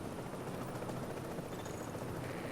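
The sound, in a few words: helicopter in video game The Division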